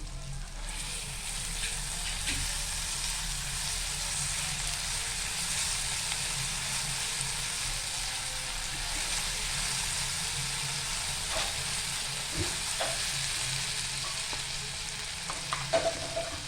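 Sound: ginger garlic paste frying and sizzling in oil

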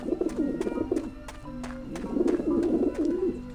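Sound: skeletal pigeons cooing, from the video game Grim Fandango

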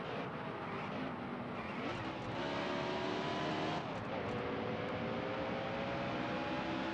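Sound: race car engine downshifting in a racing video game

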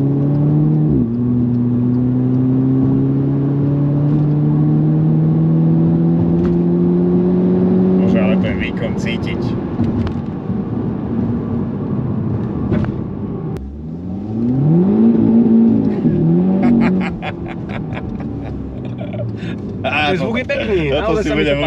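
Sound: VW Golf GTI accelerating hard on winter tyres

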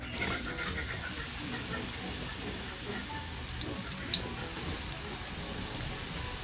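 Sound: frying purple sweet potato cubes

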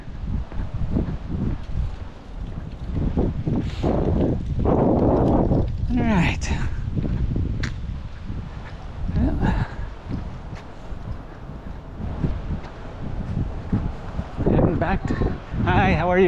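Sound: wind blowing outdoors

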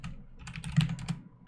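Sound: typing on a computer keyboard

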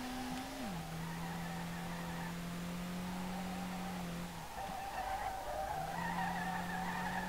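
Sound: car drifting with tire skids in SLRR video game

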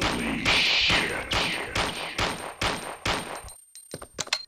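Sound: pistol gunfire in Resident Evil 3 video game

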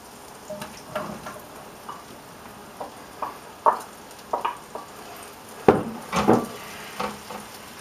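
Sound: mushrooms frying in a pan for meatloaf

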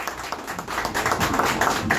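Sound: audience applause

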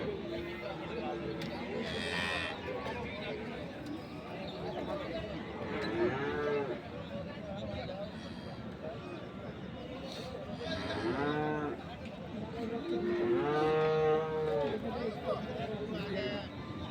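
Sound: Holstein Friesian bulls mooing at cattle market

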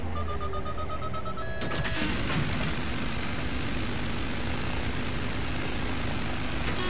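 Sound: helicopter flying, from a video game

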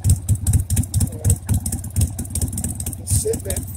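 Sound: motorcycle engine idling while warming up

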